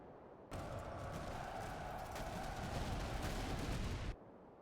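Massed musket volleys and artillery fire in the Napoleonic battle game Master of Command, Austrian border troops engaged, a dense continuous crackle of gunfire with booming shots that starts abruptly and cuts off just as sharply.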